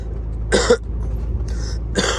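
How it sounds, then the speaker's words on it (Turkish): Two dry coughs, close to the microphone, spaced about a second and a half apart, over a low steady background hum. "Biraz öksürüyorum."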